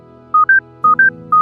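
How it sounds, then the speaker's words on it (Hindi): A mobile phone rings with a loud electronic ringtone: short two-note beeps alternating between two pitches, repeated in quick pairs over a soft tonal background. "अश्वथ का फोन बजने लगा।"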